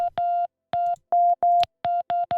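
A sine tone run through an amp effect plays as a run of short, pitched synth notes that start and stop with sharp clicks, loud and close, each note a clean buzzy hum with no voices.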